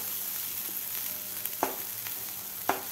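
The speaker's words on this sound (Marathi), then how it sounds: "मसाला परतून घ्यायचा आहे" Spice masala for a bitter gourd curry sautéing in oil in a pan, a steady soft sizzle with a few sharp scraping clicks of a spoon, close and fairly quiet.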